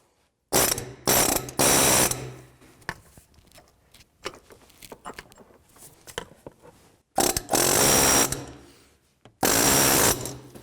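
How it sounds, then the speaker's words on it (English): A fan clutch tool fitted with a 36mm adapter loosens the radiator fan clutch on a 2000-04 GMC Yukon, giving several loud bursts of close ratcheting and clattering metal separated by quieter mechanical handling, with no talking. "I'm going to use a fan clutch tool with the 36mm adapter"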